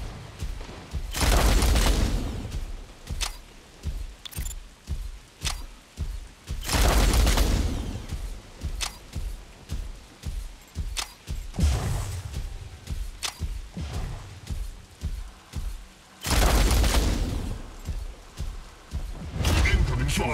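Mech weapons firing in the Mech Arena robot battle game: several heavy booming blasts break out at intervals over a busy stream of thumps and impacts, with a voice talking throughout.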